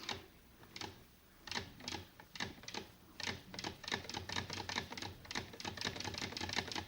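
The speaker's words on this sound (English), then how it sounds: "You know how to make a single thread chain on a sewing machine." A sewing machine, threaded for a single thread chain stitch, runs in a series of rapid mechanical clattering bursts that speed up and become nearly continuous, moderately close, set in an old radio crime drama.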